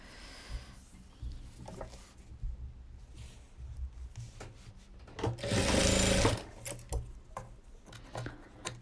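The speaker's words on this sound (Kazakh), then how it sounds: "Бір, 2, 3, 4, 5-ші қатарды тігіп жатырмыз." A sewing machine stitches rows of a patchwork quilt in short bursts, with one longer, louder run of rapid stitching in the middle and quieter clicks and handling sounds between.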